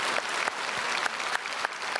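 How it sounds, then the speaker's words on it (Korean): A church congregation claps steadily in sustained applause during a Sunday service, dense and even, filling the room without voices. "박수로 한번 축복하겠습니다"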